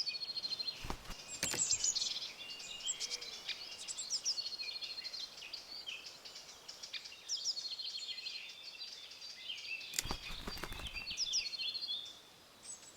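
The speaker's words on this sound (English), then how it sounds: "In particular, we come across tits with a melodious song." Tits sing melodious chirping song in open scrubland, with high twittering phrases running steadily through the clip at a moderate distance and a few louder broadband bursts near the start and around ten seconds.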